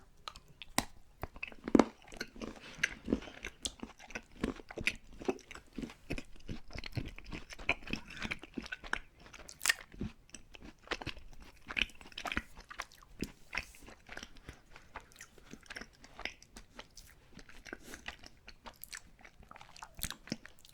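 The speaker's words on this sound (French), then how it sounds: "Une bonne barre chocolatée. On va goûter ça." A chocolate bar from a Russian military ration being bitten and chewed close up: continuous soft crunching and wet mastication with irregular sharper crackles, intimate and quiet, with no talking.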